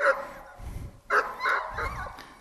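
A search and rescue dog barks repeatedly to alert its handler that it has found a missing person, giving a quick series of close, sharp, yipping barks with no talking.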